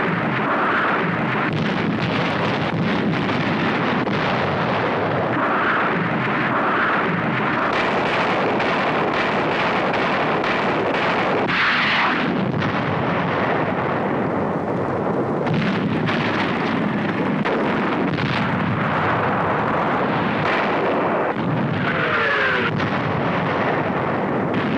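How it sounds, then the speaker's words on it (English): Navy rockets fire and explode in archival World War II Pacific combat footage, a continuous loud, distorted roar broken by heavier blasts and rumbling bursts. "Navy rockets."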